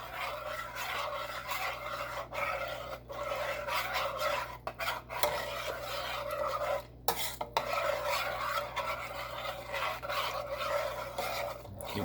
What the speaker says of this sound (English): you just keep stirring it